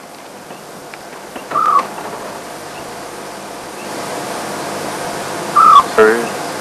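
A scops owl calls twice from a wooded spot on a live game drive, giving short faint hoots several seconds apart over quiet outdoor background hiss.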